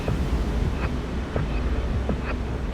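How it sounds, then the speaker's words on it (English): Ocean waves breaking with a continuous low rumble and wash, heavy wind noise on the microphone, and a few brief higher splashes recurring at intervals. "The power of waves like that is one of the great forces of nature"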